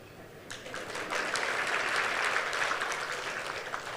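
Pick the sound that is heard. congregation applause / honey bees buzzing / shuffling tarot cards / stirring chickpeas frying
congregation applause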